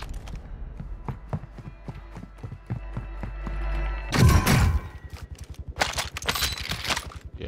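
Gunfire from a Call of Duty: Warzone match cracks in scattered shots, with a louder burst of shots around the middle, over steady rhythmic footsteps and background game noise. A faint voice is present.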